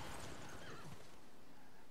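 A horse whinnies in Civilization VI, a bright, wavering neigh that falls in pitch and then tails off, with faint hoofbeat-like clopping beneath and no talk.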